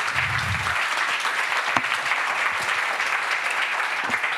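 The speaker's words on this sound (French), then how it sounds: "on vous applaudit très chaleureusement" An audience at an agricultural business conference applauds two speakers, producing a thick, sustained roar of many clapping hands at close range, even and unbroken for over four seconds, with a faint low thump near the start.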